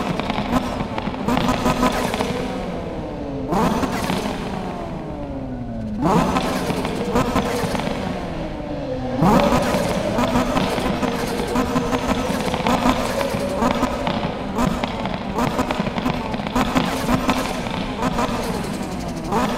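Tuned Ferrari engine and exhaust in Need for Speed 2015, screaming through repeated rev climbs and sharp gear-change drops, loud and close, with crackling pops between shifts.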